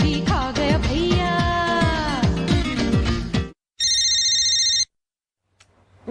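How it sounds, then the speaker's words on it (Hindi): A phone rings with a melodic ringtone, then gives a shorter electronic trill followed by silence and a faint restart, loud and nearby. "मम्मी फोन उठाओ ना।"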